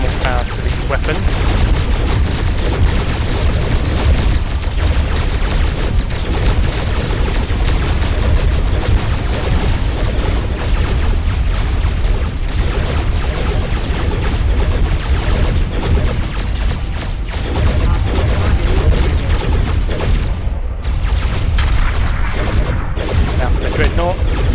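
Carrier weapons in Starpoint Gemini 2 fire continuously in automated mode, a dense, loud stream of space-combat blasts and booms layered over a steady rumbling bed, with a few sharper bursts late on.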